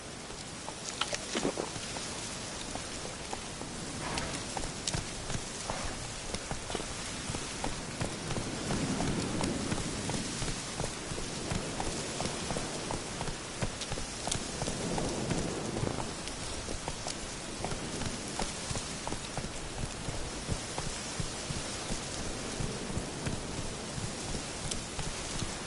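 Steady rain falling in The Witcher 3: Wild Hunt, a constant patter under the rhythmic clip-clop of a galloping horse, with occasional brief voices.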